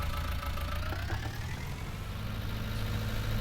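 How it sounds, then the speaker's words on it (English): A small tractor's engine in a survival roleplay game, a continuous mid-low idling drone that rises slightly in pitch, steady and fairly close throughout. "Hopefully I can get the tractor past there"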